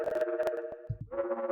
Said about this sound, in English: this is literally just a sine wave